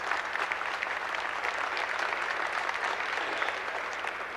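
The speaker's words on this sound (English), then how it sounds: "I know you'd like to give them one more round of applause and say thank you for being here and what you've done." A crowd at a Canada Walk gathering in Edmonton gives steady, dense applause for the visiting government ministers, a sustained roomful of clapping with a faint hum underneath and no talking.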